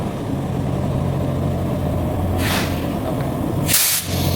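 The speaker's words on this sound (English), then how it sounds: "I always like to hear them brakes pop before I get behind." A truck's air brakes release two sharp hisses, one short burst and then a louder second one, over a steady low engine rumble on a roadside.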